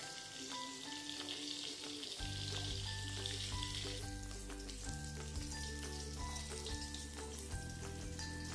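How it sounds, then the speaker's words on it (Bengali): Tengra fish fry in hot oil over a gas flame, giving a steady, dense sizzle that stays loud and continuous throughout, with faint tonal sounds in the background. "সব মাছগুলো ভাজা হয়ে গেছে"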